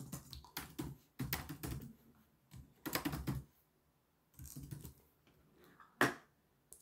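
Project name typed on a computer keyboard, several quick bursts of close key clicks separated by short pauses, with a single firmer tap near the end.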